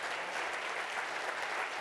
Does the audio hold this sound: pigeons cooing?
no